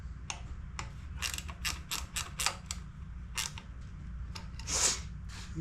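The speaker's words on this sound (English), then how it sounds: "Let's tighten this little bolt down here that holds the bottom of this air filter housing." A small ratchet clicks in short bursts while tightening the bolt at the bottom of a generator's air filter housing, close and clear over a steady low hum, with a few pauses between strokes.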